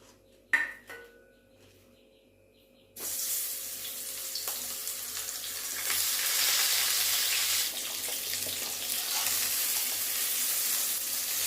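After a few quiet seconds and a clink, a loud, steady sizzle of hilsa fish heads frying in hot oil in a wok begins and continues, growing slightly louder.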